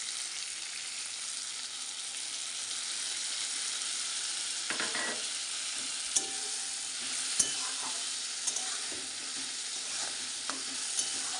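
Hilsa fish head fries in a pan with a spice paste, giving a steady, close sizzle throughout, broken now and then by a few sharp clicks of a spatula against the pan.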